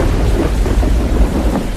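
Thunder rumbling over steady rain in the Metal Gear Rising: Revengeance video game, a continuous low, heavy roar that fills the short stretch with no voices.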